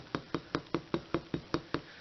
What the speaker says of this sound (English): So I'm just going to carefully and lightly hammer this.